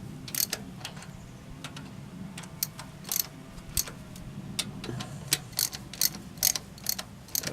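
A hand ratchet clicks in quick, irregular bursts while tightening bolts on a Toyota Tercel 4WD 3A engine, the sharp close ticks set over a low background rumble.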